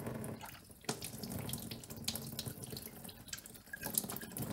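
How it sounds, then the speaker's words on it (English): A part from a Blichmann Beer Gun is rinsed under a running sink tap, giving a continuous, fairly quiet splash and hiss of water that lasts throughout. "So we took that out and we can rinse this off here."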